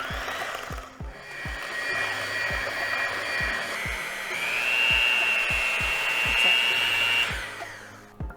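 An electric mixer blends dry ingredients of flour, cinnamon, baking soda and salt into wet banana bread batter with apples. It makes a steady close whir with rhythmic low knocks against the bowl, and its pitch rises partway through.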